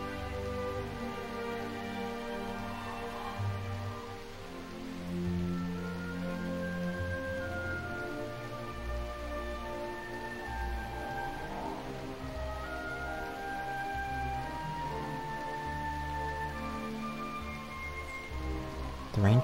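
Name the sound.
rain falling, from video game Dragon Quest 8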